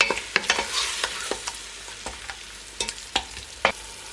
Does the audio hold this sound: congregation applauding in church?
no